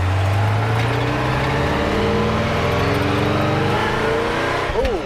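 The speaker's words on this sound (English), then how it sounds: "Ooh, got a little squeal out of it." A 1957 car with a 1964 Impala bucket-seat interior accelerates on a highway, its engine droning loud and steady throughout, and a brief rising tire squeal chirps near the end.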